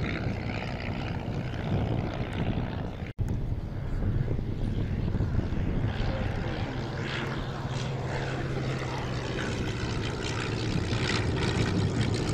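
Vintage propeller aircraft at the Shuttleworth airshow fly past with a steady, loud droning engine roar that swells and fades continuously over open ground.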